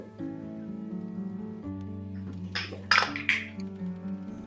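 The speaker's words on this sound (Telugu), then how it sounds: "కొంచెం ఉప్పు వేసేసి మరొకసారి కలుపుకుందాం" Spoon scraping and clinking in a pan as chilli powder, turmeric and salt are stirred into palak paneer curry, a few close metallic knocks and scrapes over a steady background hum.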